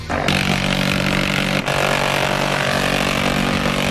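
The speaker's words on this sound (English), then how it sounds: "The minigun, when it's fired, it doesn't even sound like a gun. It sounds like a chainsaw." A minigun fires with a loud, continuous mechanical roar and a buzzing, chainsaw-like drone, unbroken for several seconds apart from a brief dip.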